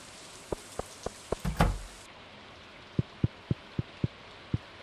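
Steady rain hiss in the Stardew Valley farming game, a continuous soft wash that runs throughout, with a cluster of regular soft thumps like footsteps and a brief louder burst near the start.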